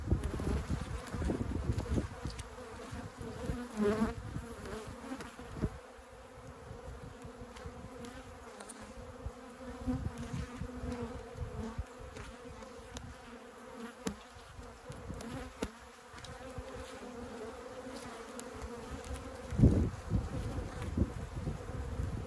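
Bees swarm around an aggressive hive, a continuous close buzzing drone that swells and fades as insects pass near, with occasional handling knocks and no talk.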